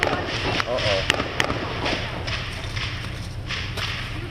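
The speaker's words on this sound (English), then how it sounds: "We heard those gunshots" Several sharp cracks of gunfire ring out amid a noisy outdoor crowd, with people talking in the background throughout.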